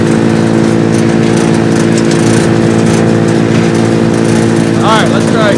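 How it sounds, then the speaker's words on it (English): A Mechmaxx DCH7 wood chipper roars loud and close with a steady engine drone, grinding as material jams around its roller, while a person talks over the din. "See how it kind of grinds, it gets stuck around that roller."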